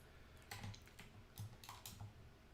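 Keys on a computer keyboard clatter in short bursts of typing, close but faint, with brief pauses between clusters of clicks and no voices.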